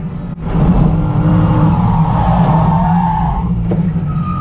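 A Lamborghini Super Trofeo race car spins out on track: a loud, continuous engine roar with a rising tire squeal sweeping through the middle of the skid, close and sustained for several seconds.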